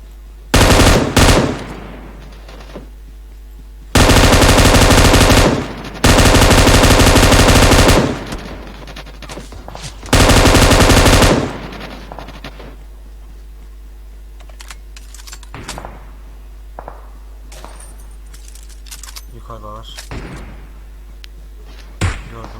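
An M249 machine gun in the PUBG Mobile video game fires in several loud, long automatic bursts near the start, then quieter scattered game sounds follow.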